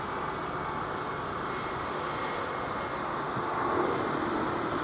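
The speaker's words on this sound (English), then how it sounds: "Got a set of Rolls-Royce engines clattering down the runway there." An Airbus A350 with Rolls-Royce engines rolls down the runway on landing at London Heathrow, a steady, broad jet roar that holds at an even level and swells slightly near the end.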